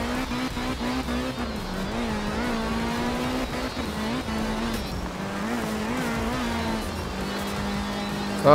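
Rally car engine in the racing game art of rally drones loudly and continuously, pitch rising and falling with gear changes and revs, tyres faintly scrubbing underneath, with no voices.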